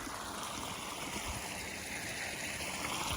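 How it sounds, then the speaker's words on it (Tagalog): A creek crosses a hiking trail on Mount Diablo, its water flowing in a steady, continuous rush that fills the scene at a moderate distance. "medyo alanganing sapa. May tubig dito."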